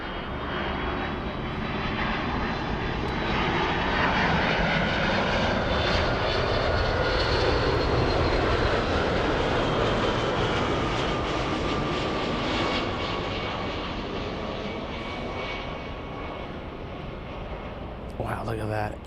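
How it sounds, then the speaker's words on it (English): A Delta Boeing 757 jet arriving at LAX from Boston, a loud continuous engine roar with a steady whine, close by and holding for the whole stretch, fading slightly near the end. "So the Delta 757 flying in from Boston."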